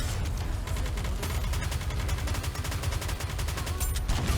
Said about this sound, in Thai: อย่าให้มันยิงผมไอ้ปืนนี้มันแรง